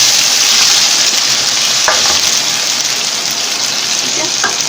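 Tomatoes sizzling loudly in a pan of oil with green chillies for khichdi, a steady close frying hiss with a couple of brief stirring clinks.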